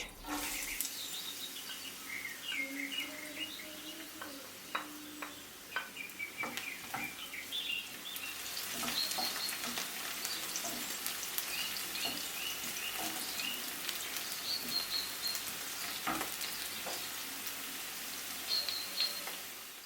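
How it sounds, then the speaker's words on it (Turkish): Chopped onion sizzles continuously in hot oil, a dense close crackling hiss with scattered sharper pops and faint bird chirps in the background. "Şimdi bir adet yemeklik doğradığım soğanı da ekleyip 2-3 dakika kavuruyorum pembeleşinceye kadar."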